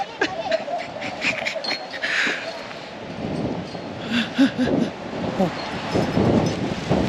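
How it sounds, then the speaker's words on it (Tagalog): Strong, gusty wind roars and buffets the microphone at Donovaly, Slovakia, with rustling and clatter underneath. "Uy, ang lakas ng hangin."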